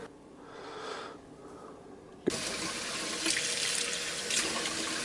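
Water poured from a tap into a scoop and a half of casein protein powder to make a pudding, a soft trickle that turns abruptly into a louder, steady splashing stream partway through.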